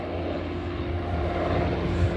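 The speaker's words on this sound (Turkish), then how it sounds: "Bu helikopterler karınca misali çok kuvvetli su taşıyorlar." Firefighting helicopters carrying water over a burning maquis wildfire near Akyarlar and Turgut Reis, giving a steady loud rotor and engine drone throughout with no talk.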